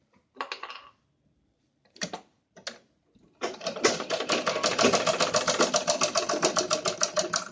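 A sewing machine stitching a kurti sleeve gives a few short separate bursts, then settles into a long, steady rapid clatter of stitches at close range, with no one talking.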